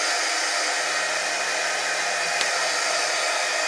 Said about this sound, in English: We're using a hair dryer to dry off our hat case.